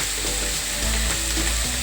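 Sliced onions cook with salt in a hot pan for methi pyaj sabzi, a constant close, dense sizzling hiss with a faint low rumble and no voices.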